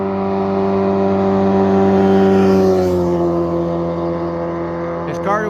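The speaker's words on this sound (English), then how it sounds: "I got a motorcycle coming by." A motorcycle goes by on a road in Georgia, its loud engine drone rising to a peak and then fading as it passes close, followed by a brief burst of higher whine near the end.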